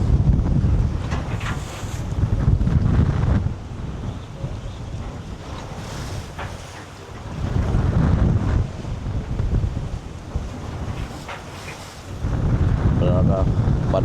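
Sea waves and strong gusting wind buffet a rocking boat sheltered behind a barge, with loud surges of wind noise and surf rising and falling in several long swells throughout.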